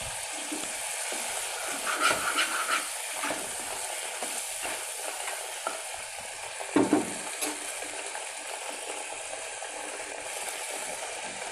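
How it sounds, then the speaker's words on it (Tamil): A pan of Tamil betel leaf curry bubbles and sizzles steadily at close range, with occasional stirring clatter and soft splashes and no voices. "இது ஒரு 2 நிமிஷம் கொதிக்கட்டும்."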